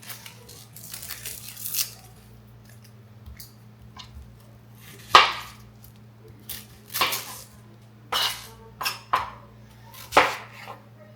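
A knife chops an onion on a cutting board in a home kitchen, with scattered sharp cuts and scraping strokes coming at irregular intervals against a quiet background hum.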